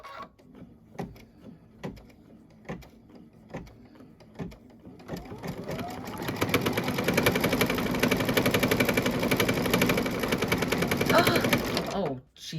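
An embroidery machine stitching lines onto an oven mitt, first a few separate ticks and clicks, then a fast, steady mechanical whirring hum of needle strokes running for several seconds before it stops.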